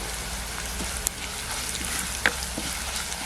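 Sliced onions and chili flakes fry in a hot pan for a green chilli curd curry, giving a steady, dense sizzle throughout with a couple of sharp pops and crackles, close and alone without talk.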